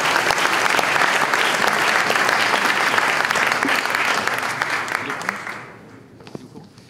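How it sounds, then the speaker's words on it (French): A seated audience at a literary prize ceremony claps for book authors, a dense steady round of applause that holds for about five seconds, then fades off to scattered last claps. "On peut applaudir les auteurs qui ont sorti cet ouvrage aux éditions Plomb."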